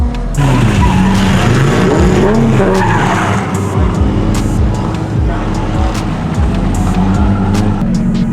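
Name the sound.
nitrous Nissan 370z drifting, tires skidding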